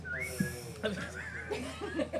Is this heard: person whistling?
yes